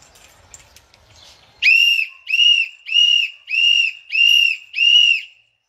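Six evenly spaced, loud whistle blasts, each about half a second long and at a steady pitch, follow a brief stretch of faint background noise.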